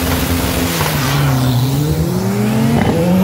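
Volkswagen Gol race cars, including a Gol 4x4, launch in a drag race, their engines roaring loud and close with rising revs that hold steady over a few seconds.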